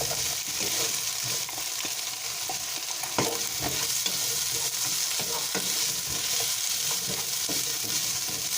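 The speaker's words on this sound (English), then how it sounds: "We're gonna add our onions." A whole chopped onion goes into a frying pan with garlic, giving a steady close sizzle with occasional stirring scrapes and taps throughout.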